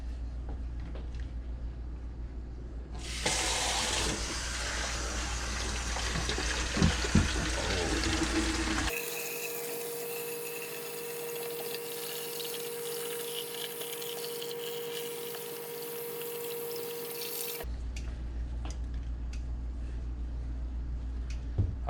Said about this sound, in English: It may be necessary to use your fingers on the hose to apply light water pressure.